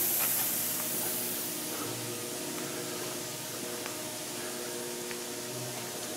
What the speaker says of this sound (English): So I'll give the frame a coat of self-etching primer, and the firewall a coat of just a black primer